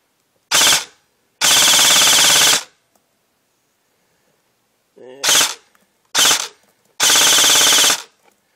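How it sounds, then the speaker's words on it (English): A G&P custom M4 stubby airsoft rifle firing full-auto bursts of about 20 rounds, a loud close buzzing chatter in several separate strings of varying length with silence in between. "if I hold down the trigger, it goes to full auto. That's 20 rounds"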